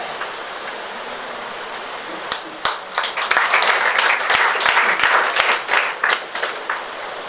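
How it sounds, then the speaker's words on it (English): Audience applause welcoming a speaker at a Lions Club talk, a few isolated claps that swell into sustained clapping for several seconds, fairly near and without speech. "welcome her with a flower of applause"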